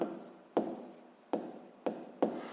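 A pen scratches across paper while someone writes out a sixth-grade math exercise, four or five short bursts of writing separated by brief pauses, close and quiet.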